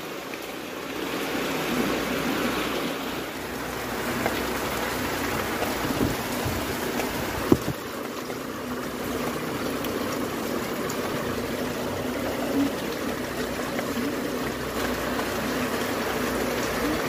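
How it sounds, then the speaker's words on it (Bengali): Continuous rain falls in a steady, close wash, joined by low thunder rumbles in the middle, with no voices over it. "বৃষ্টি হয়েই যাচ্ছে হয়েই যাচ্ছে হয়েই যাচ্ছে"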